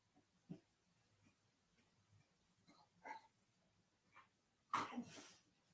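A dog makes a few short, quiet whimpers and snuffles spaced apart in a quiet room, ending with a louder sneeze-like huff.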